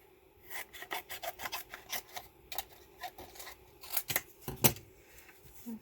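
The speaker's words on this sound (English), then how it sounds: "So I'll just get my scissors here so that it will fit in there so I can cut it." Scissors snipping through paper to cut a shape for a handmade shaker card, a quick run of close, crisp rasping cuts with brief pauses between.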